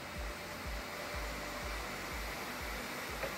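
Steady whirring drone of a FABTEC MR 13A drill bit sharpening machine grinding the relief angle of a drill bit, with a rhythmic low pulsing about twice a second as the bit is rotated against the wheel.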